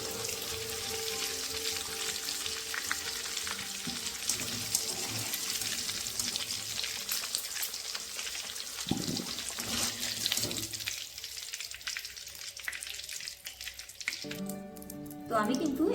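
Potatoes frying in hot oil for a Bengali-style chicken curry give a steady, close sizzle that runs throughout at moderate volume, with a few clinks near the end.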